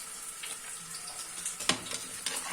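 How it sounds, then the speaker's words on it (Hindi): Tadka tempering for a goat head curry sizzles steadily in a pan, a soft continuous hiss with a few brief crackles and spits rising over it, fairly quiet and with no voices. "बस अब इसको तड़का सा लगाएंगे।"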